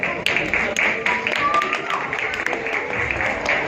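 Audience applause at a Jashan celebration ceremony held by the Trinity Shelter organisation, a dense, steady patter of many hands clapping mixed with a speaking voice throughout.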